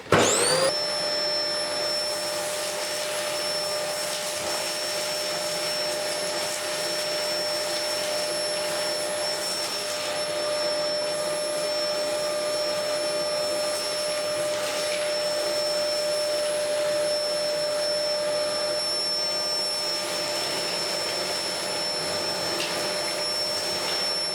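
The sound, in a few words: vacuum cleaner sucking debris from wall cavity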